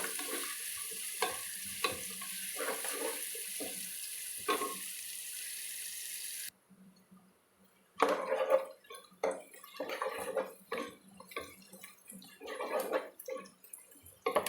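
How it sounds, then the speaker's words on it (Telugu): Onions with a little salt fry and sizzle in a pan while a spoon stirs them in quick scraping strokes, first under a bright hiss, then after a brief pause in intermittent close clatters. "ఉల్లిపాయ మొత్తం బ్రౌన్ కలర్ రానవసరం లేదండి ఇట్లా ఇట్లా వేగితే చాలు"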